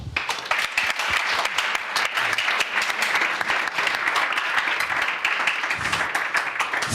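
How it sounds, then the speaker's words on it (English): A conference audience gives panelists a steady round of applause at an energy conference, continuous even clapping from a full room lasting the whole stretch without speech. "Let's have a good round of applause."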